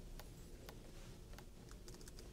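Someone typing on a computer keyboard during a conference talk, a few scattered quick key clicks over a steady low room hum.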